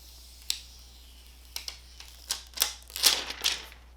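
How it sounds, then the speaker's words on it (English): Protective film is peeled off a silver Samsung Galaxy S21 Ultra phone, giving a string of short, crisp crackling ticks that grow denser toward the end, fairly close and quiet with no talking. "Wow, very satisfying peel again"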